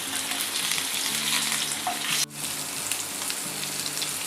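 Stuffed bitter gourd fries in a pan with a dense, steady sizzle, stirred close by. One sharp knock cuts in midway, and then the frying carries on.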